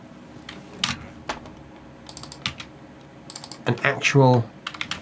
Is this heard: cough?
no